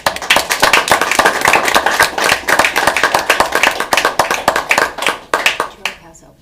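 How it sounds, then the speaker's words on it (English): A small group at a school district board meeting claps in a brisk round of applause honoring long-serving staff, the dense clapping continuing for several seconds before tapering off. "That's round of applause."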